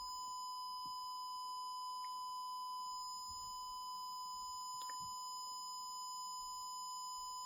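A steady 1000 Hz square wave tone from a digital-to-analog converter, a continuous piercing electronic whine with bright overtones, unbroken for the whole stretch, with faint handling clicks underneath.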